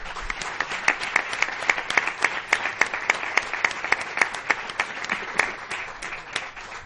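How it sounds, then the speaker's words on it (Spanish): Jury members at a Spanish competition event receive a round of applause, heard as a few close, distinct hands clapping in a fairly even rhythm rather than a dense crowd roar. "pues pedirle un fuerte aplauso para ellos."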